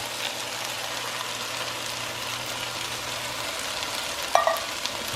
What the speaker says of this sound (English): I'm going to stir this a little bit so that my peppers on the bottom don't start to stick.